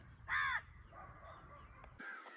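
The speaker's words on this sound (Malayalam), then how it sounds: "കാക്കയൊക്കെ ഇരുന്ന് കരയുന്നു" Crows caw by the water at Kudayathur, a loud harsh call near the start followed by fainter caws over steady outdoor ambience, with no talking.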